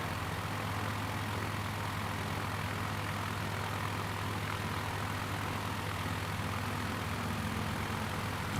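Steady, continuous drone of a propeller aircraft flying slowly in Microsoft Flight Simulator, with an unchanging engine hum and no talking.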